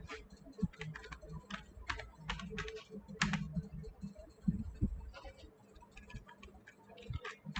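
Java code being typed on a computer keyboard, a steady run of quick, close key clicks with irregular bursts and pauses over a low room hum.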